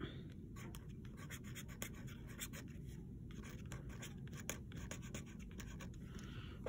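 A pen or pencil scratches across paper, writing on a foldable for a social studies lesson, in quick faint strokes with short pauses, close and quiet over a low background hum.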